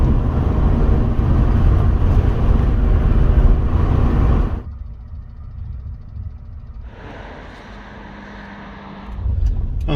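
A 1.4-litre car engine climbs a hill in a loud, heavy drone, drops sharply during a downshift to third gear, hums at a quieter level for a few seconds, then rises again as the engine pulls.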